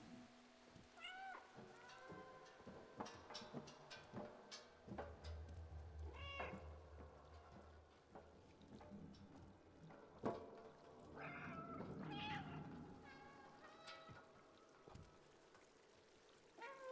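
Cat in the video game Stray meowing repeatedly as the button is pressed, a string of short, close meows over faint trickling water ambience.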